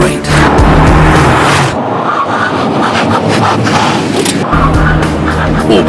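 A race car accelerates hard on a test track, its loud engine roaring close with a clear break and a gear change partway through, then pulling on strongly.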